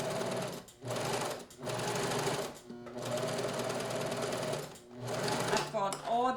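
A sewing machine stitches a chiffon dress hem, running in steady whirring bursts broken by brief pauses, close by, with a voice talking over it.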